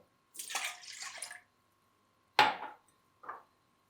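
Water and milk poured into a bowl while preparing dough, heard as a short splashing pour, a sharper splash after a pause, then a brief softer pour, close in a quiet kitchen.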